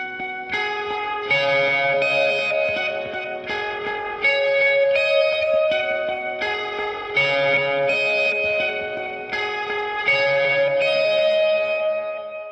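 An electric guitar through a Line 6 Helix with echo and reverb picks a repeating arpeggiated pattern over one chord, notes ringing together in a steady cycle.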